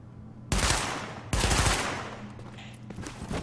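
Video game gunfire shooting at a box: two sharp loud blasts about a second apart, each leaving a decaying rumble, with no talk over them.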